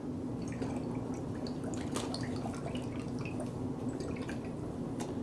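Soy, garlic and red pepper beef marinade poured into a small plastic bag, a steady close liquid pour with drips and trickles running throughout, no talking.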